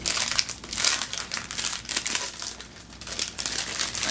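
A package of planner stickers being opened, with close, loud crinkling and rustling of plastic packaging in irregular bursts throughout, no voices.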